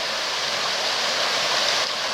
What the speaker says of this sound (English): this is the River Meon